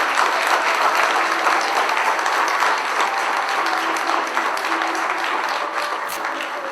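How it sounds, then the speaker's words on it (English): At an international symposium opening, a large audience gives a big round of applause, a loud continuous wash of clapping that holds steady and eases slightly toward the end. "may we have a big round of applause"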